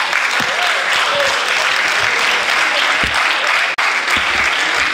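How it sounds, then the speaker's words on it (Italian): Audience at a cinema in Vestone applauds the guests, sustained loud clapping with a few brief voices rising over it and a momentary dropout near the end. "applauso ai nostri ospiti."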